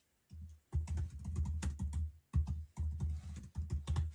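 Rapid bursts of typing on a computer keyboard, close and fairly loud, with clustered keystrokes broken by short pauses and no talking.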